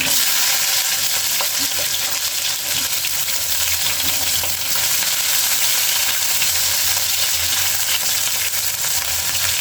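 Chopped onion dropped into hot oil with whole garam masala spices and green chilies, a loud, dense, unbroken sizzle with faint stirring, close up and sustained without talk.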